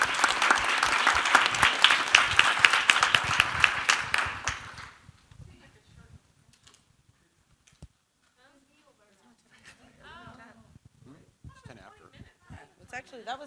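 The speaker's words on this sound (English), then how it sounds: "Let's give our speakers one more round of applause and our participants." Loud audience applause at a conference talk on software quality fills the opening seconds, dense and sustained, then fades out around five seconds into quiet room sounds and faint talk.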